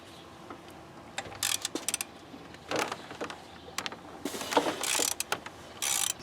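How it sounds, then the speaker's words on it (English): A ratchet works at the tensioner pulley of a Subaru WRX timing belt, giving bursts of quick clicking and metallic rattle separated by short quiet gaps, close and fairly loud. "Let's take the tensioner pulley out first."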